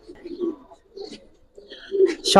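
Pigeons at a Bengali pigeon seller's loft coo in soft, low repeated phrases at close range, under a voice talking, ending in a louder burst of noise.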